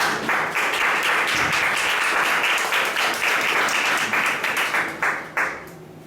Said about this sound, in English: let's give a big round of applause to you